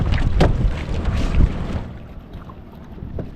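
Paddles dip and splash in water a few times, with a windy rumble over the microphone as a small fishing boat with a non-starting engine is paddled along.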